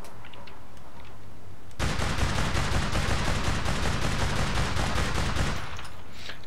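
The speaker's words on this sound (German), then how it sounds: "Ich habe ein Magazin auf die drauf gebrezelt mit meinem neuen Karabiner" Sustained burst of carbine fire in the online shooter APB Reloaded, a dense rapid stream of shots lasting several seconds, loud and close, with no talk over it.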